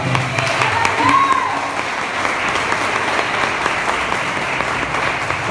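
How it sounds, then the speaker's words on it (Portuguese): Steady, full applause from a church congregation, many hands clapping together at a strong, even level throughout, with faint voices mixed in. "Só vai aplaudir o Senhor Jesus bem forte aquele que tomou posse dessa palavra."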